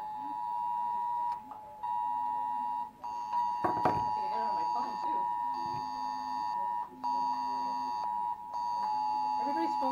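Several mobile phones sound emergency alert tones at once for a severe weather warning in northern New Hampshire, a loud steady repeating electronic beeping pattern that fills the whole clip while people talk over it.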